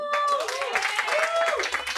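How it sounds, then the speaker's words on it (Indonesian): Clapping from a talk show audience at a youth election forum, scattered and fairly close, mixed with voices, music-like tones and chatter throughout. "tepuk tangannya dong"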